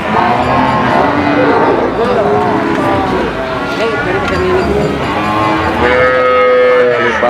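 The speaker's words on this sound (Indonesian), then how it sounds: "Sapi-sapi pekon guys." Cattle at a livestock market in Pati, Central Java, moo over and over, several drawn-out calls overlapping close by and in the distance against a continuous din of people chattering.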